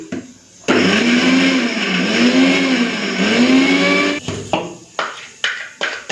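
An electric grinder runs loud and steady for several seconds, blending ginger, garlic, onion, whole cumin and chili into a spice paste in a home kitchen, then stops and is followed by a few short clattering knocks.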